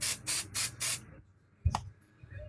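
A spray bottle mists quilting fabric in four quick, evenly spaced bursts, close and crisp, followed by a soft thump and quiet handling sounds.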